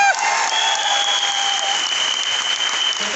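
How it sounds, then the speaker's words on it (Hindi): A crowd claps loudly and steadily throughout, sustained applause filling the room without a break. "एक बार जोर से ताली कर सकते हैं"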